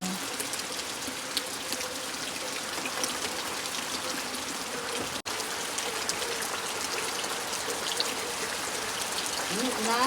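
Rain falls outdoors in a rural village in a steady, even hiss of drops that continues almost unbroken from start to finish.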